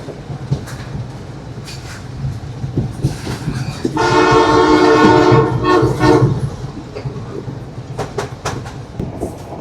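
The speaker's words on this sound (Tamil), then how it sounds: "அதுக்கு நடுவில் தான் இந்த ட்ரெயின் வந்து பயணம் செய்யுது." Train running between the coastal road and the sea at Wellawatte, Sri Lanka, rumbling and clattering close by, with a loud horn blast sounding for about two seconds midway over the rolling wheel noise.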